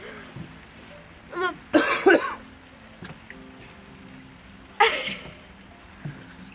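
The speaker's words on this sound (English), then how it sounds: "Just blatantly choked on my cough." A person at a spa coughs and splutters in several bursts, a couple of harsh hacks close together, then another sharp cough a few seconds later, heard close and alone against quiet room noise.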